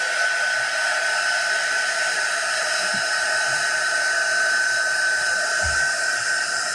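A hair dryer blows steadily on acrylic paint coating a Santa bust, making a loud, continuous whooshing whine that runs unbroken throughout.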